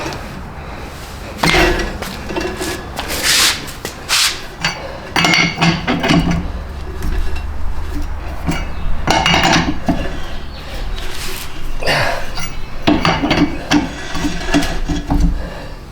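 A hammer taps on an electric car jack, producing irregular, sharp metallic clanks and knocks in scattered clusters, some louder than others, close by with no talk.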